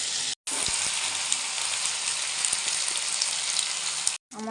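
Vegetables and pasta sizzle and fry steadily in a pan, a loud, dense hiss running without a break for about four seconds, with brief silences at the start and end.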